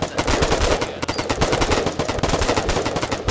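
Rapid, dense automatic gunfire from the war video game Foxhole, sustained bursts of shots firing near and loud with no pauses.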